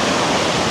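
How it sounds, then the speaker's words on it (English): A mountain river flows right beside a truck campsite in New Mexico, a steady, loud rushing of water that stays constant throughout, with no voices. "And then we are right on the river."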